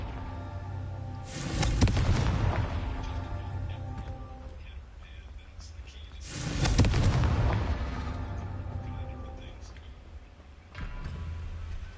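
Two loud booming blasts from the Confringo fire spell go off in a Harry Potter video game about five seconds apart, each with a rumbling tail that fades into steady game ambience before a third burst starts.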